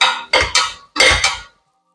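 Beef mandi masala being stirred in a pan, sounding as a few sharp metallic scrapes and clinks of a spoon against the pan in two short clusters, then silence.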